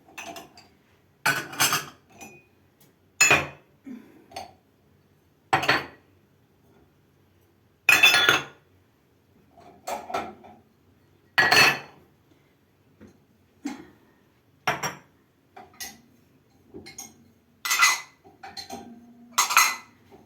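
Food is emptied into a cooking pot, with pots and metal utensils giving a dozen or so sharp, separate clinks and scrapes at irregular intervals, close and clear against near silence.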